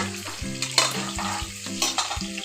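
Chillies and onion tempering in hot oil for a chicken sambar sizzle steadily while being stirred, with light scraping clinks, close and alone with no talking.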